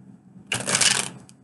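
Tarot cards dealt out onto a surface, a single quick papery swish and slap lasting about half a second, close and clear against a quiet room.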